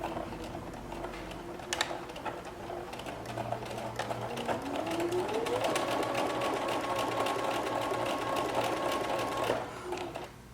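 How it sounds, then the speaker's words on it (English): Sewing machine running a regular straight stitch along a knit T-shirt shoulder seam: a close, continuous fast mechanical whir with a rising motor tone and rattling needle clicks. "I just use a regular straight stitch 1/4 inch seam allowance on the shoulder seam"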